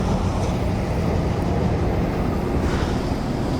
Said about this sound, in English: they're waiting for the train to back up